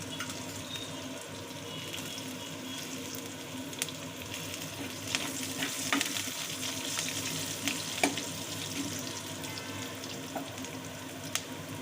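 A blended paste of tomato, onion and cashew is fried and stirred in a pan for an egg masala curry, a continuous wet sizzle with occasional scraping and ticking stirring strokes, moderately quiet and free of talk.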